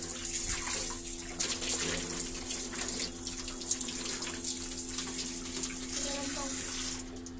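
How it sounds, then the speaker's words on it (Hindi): Water runs steadily and continuously, refilling a container whose water had evaporated, heard as an even, moderately quiet rush without breaks. "ये भर देती हूँ पानी"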